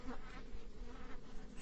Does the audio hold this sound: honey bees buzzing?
yes